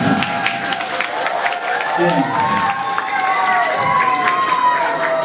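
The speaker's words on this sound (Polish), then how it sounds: "Uśmiechajmy się i powitajmy je wszyscy. Brawa!" At an outdoor Children's Day celebration in Olsztyn, a crowd of children and adults cheers and claps together, with shrill young voices shouting over steady applause that continues without a break.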